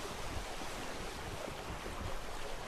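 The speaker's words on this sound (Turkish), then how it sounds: "Rüzgar gelmeye başladı." Steady wind and lapping waves around a sailing ship in the video game ATLAS, a faint, even wash of noise with no talking.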